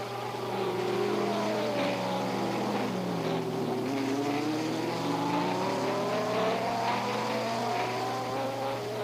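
A 1967 Formula One race car at the Canadian Grand Prix runs past on the start-finish straight, its engine a droning, rising and falling whine that swells and fades, with a steady low hum underneath and no talk.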